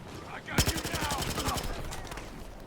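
Automatic fire from a CAR-556 rifle in Battlefield Hardline, a rapid sustained burst of closely spaced shots starting abruptly and rattling on steadily, loud and close.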